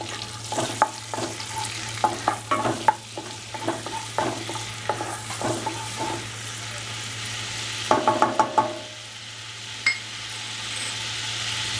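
Whole black peppercorns, cloves, two small green cardamom pods and cinnamon hit hot oil in a dhaba-style kitchen, giving a steady sizzle over a low hum, with repeated spoon scrapes and stirring knocks that swell briefly near the end.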